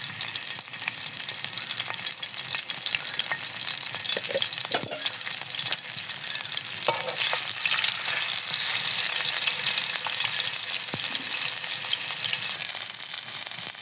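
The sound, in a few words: meat frying in a pan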